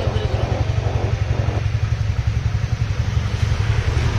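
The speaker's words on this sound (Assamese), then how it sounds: "সিজ ইঞ্জিন অ'কে হৈ গ'ল চাই লওক চাউণ্ড চাওক" A TVS Ntorq 125 scooter engine runs steadily after repair of a seized engine, a close, even low putter with a regular pulsing beat and slight mechanical clatter, and a voice speaks over it briefly.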